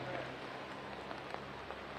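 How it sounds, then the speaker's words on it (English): Soft rain falling in Utah patters continuously on surfaces, a quiet, even wash of fine droplets with no other clear sounds. "It's raining over there in Utah."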